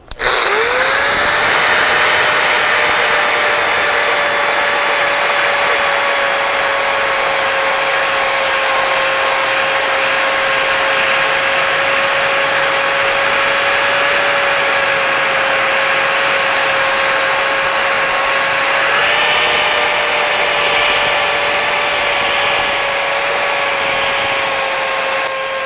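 A Milwaukee 4.5-inch angle grinder fitted with a finishing disc runs steadily on a metal surface, a loud, continuous high whine that holds for the whole stretch with a slight pitch shift near the end, no talking over it.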